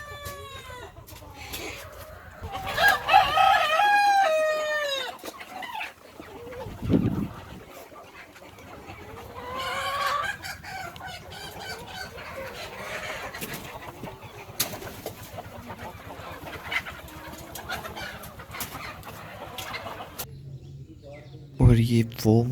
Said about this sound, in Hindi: ये वो मुर्गियां हैं जो लोगों ने आम अपने घरों में स्पेशली अपने लिए रखी होती हैं